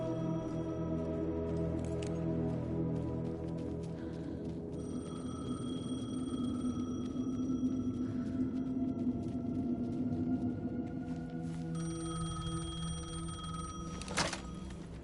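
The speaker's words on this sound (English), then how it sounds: "payphone was ringing." A payphone rings in the video game Alan Wake 2, a faint repeating electronic bell tone over a dark low ambient drone, with a sharp knock near the end.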